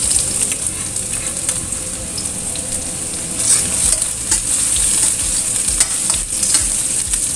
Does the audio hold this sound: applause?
no